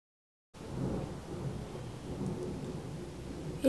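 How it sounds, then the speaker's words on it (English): Deep rolling thunder rumbles through a storm, a long low roar that swells and fades with rain faintly beneath it, loud and alone after a brief silence. "You guys hear that thunder?"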